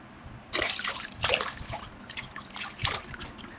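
Water poured onto skin over cushion makeup splashes and trickles in several short bursts, close and fairly soft, with drips between the pours.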